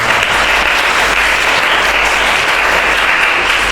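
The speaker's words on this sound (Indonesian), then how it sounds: "ada tepuk tangan untuk Naufa" A classroom of students applauds a classmate during a teaching practice lesson, a steady wash of clapping close by that carries evenly through the whole stretch.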